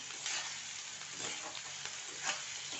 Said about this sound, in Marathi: आणि आता फुल गॅसवर ह्याला अशी परतीते जरा ह्याचा कलर चेंज होईपर्यंत